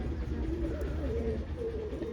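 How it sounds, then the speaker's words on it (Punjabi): Low, rolling coos from an egg-laying female pigeon repeat steadily over a constant background rumble, fairly close and moderately loud. "ਆਂਡਾ ਲਾਉਣ ਵਾਲੀ ਕਬੂਤਰੀ"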